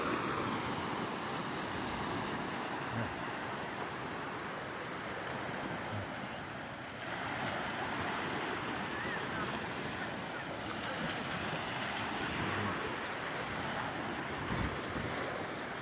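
Steady roar of sea surf washing onto a beach in Cebu, with gusty wind buffeting the microphone throughout and no clear break in the noise.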